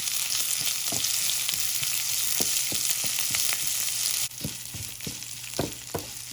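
Dried red chillies and shallots fry in hot oil for a dal curry, giving a close, steady sizzle with scattered pops and crackles throughout, the hiss easing slightly partway through, with no talk.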